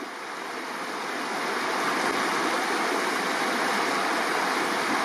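River water flowing at the Clearwater River crossing in Banff, a steady, broad rushing roar of current close by, loud and unbroken throughout.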